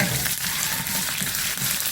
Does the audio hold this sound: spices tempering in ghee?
yes